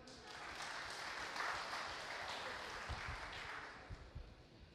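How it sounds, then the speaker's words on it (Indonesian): Audience applause at a youth speech competition final, a soft, fairly distant spread of clapping from a crowd that swells slightly midway and thins toward the end, with a few louder nearby thumps. "Tepuk tangan dulu teman-teman."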